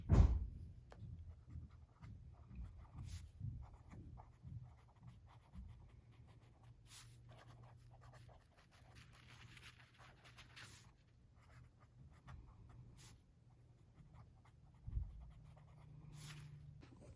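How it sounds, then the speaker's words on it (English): Pen scratching on paper while planning the week by hand, soft intermittent strokes close by in a quiet room, with faint panting of a dog and small thumps in the background. "let's write."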